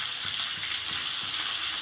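Deseeded tomato sizzling in hot oil in a home kitchen pan, a close, steady crackling fry with no voices.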